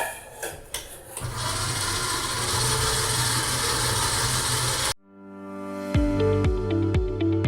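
Electric stand mixer at low speed working sablé pastry dough with sugar and almond powder, a steady mechanical whir for several seconds that cuts off abruptly, followed by quieter tonal sounds.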